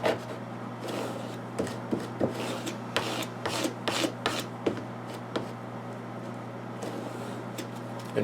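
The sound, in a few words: squeegee rubbed over a prop cigarette dispenser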